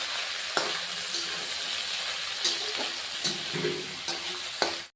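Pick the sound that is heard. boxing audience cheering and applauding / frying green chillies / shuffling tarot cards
frying green chillies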